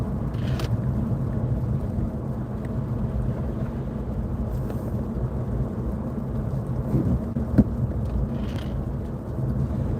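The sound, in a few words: rain with thunder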